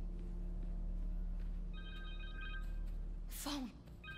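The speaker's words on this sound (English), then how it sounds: "Phone!" A phone rings in Marvel's Spider-Man 2 on PS5, a steady electronic tone pulsing for a couple of seconds over the game's constant background hum, followed by a short voice.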